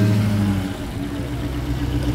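A Dodge Hellcat at a car show, its engine starting loud with a low rumble and then settling into a steady, throaty idle close by, with no talking.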